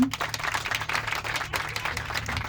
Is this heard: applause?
yes